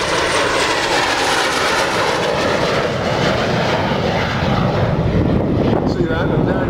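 A jet aircraft from the RAF flying training era passes by as a loud, continuous engine roar mixed with wind buffeting on the microphone, with a shift in tone near the end.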